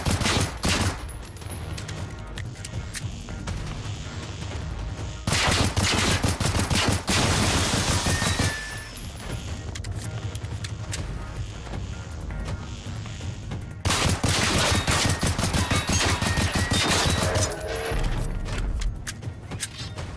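Automatic gunfire in the survival shooter Generation Zero, with long loud bursts of rapid shots separated by quieter gaps where echoes and clatter linger, and no talk.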